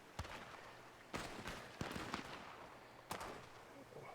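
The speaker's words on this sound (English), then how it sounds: "Where are the shots coming from up there?" Sporadic gunshots in a Western video game roleplay, four or five sharp distant cracks spaced irregularly over a few seconds, faint and echoing.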